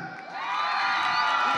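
At a town bottle contest in Autlán, Jalisco, onlookers cheer the first-place finisher, their shouting and whoops swelling from moderate to loud and staying dense and continuous.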